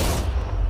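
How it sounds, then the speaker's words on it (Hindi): A close, loud blast from TNT set off by hard wire beside a safe, heard as a short, dense burst of broadband noise with heavy low rumble. "इस धमाके ने सच में मुझे डरा दिया।"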